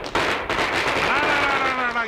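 Diwali firecrackers burst in a dense, continuous crackle, with a rising whistling tone running through the loud, steady barrage.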